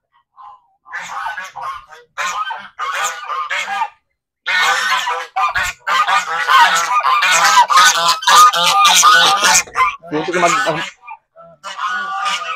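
Geese on a small home farm honk repeatedly and loudly at close range, a dense, overlapping chorus of harsh calls that builds into near-continuous clamour with brief gaps.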